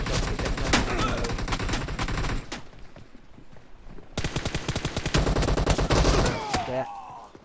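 Gunfire in the battle royale game PUBG Mobile: loud, rapid automatic bursts, then a short lull and another long sustained stream of shots, with a voice talking excitedly over it.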